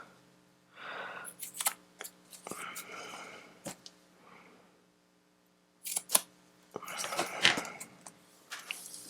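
Scissors trimming the edges of a self-adhesive paper craft stamp or sticker, heard as short, close, crisp snips and rustles in several small bursts with quiet pauses between them.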